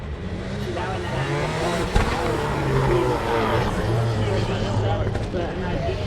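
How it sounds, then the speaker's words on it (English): A rally supercar engine drones steadily at Lydden Hill during a rallycross celebration, a fairly close, continuous roar with shifting pitch, while a commentator talks over it throughout. "A really special supercar comes out."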